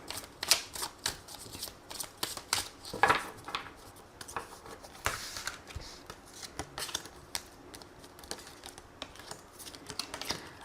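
Tarot cards are shuffled and drawn close up, with a steady patter of soft slaps, flicks and papery rustles running throughout and a couple of stronger shuffling bursts.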